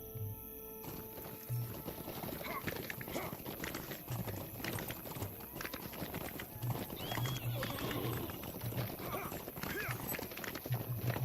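Horse hooves clip-clopping steadily while riding in a Lord of the Rings game, a continuous rhythmic trot under a constant bed of game ambience and noise.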